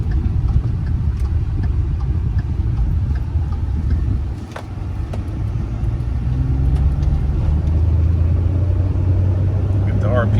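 A 2013 Ford F150 FX4 pickup with 114K miles accelerates, its engine a steady low rumble that rises and thickens toward the end, heard from inside the cab with a brief dip midway.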